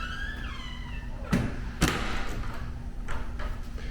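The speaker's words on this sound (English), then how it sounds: "So you got an elevator door." An elevator door in a condo clubhouse at Reunion Resort slides and closes with two dull thuds a half second apart, over a steady low indoor hum; no one speaks.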